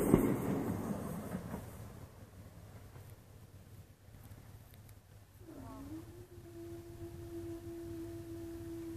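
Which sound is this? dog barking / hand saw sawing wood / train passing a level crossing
train passing a level crossing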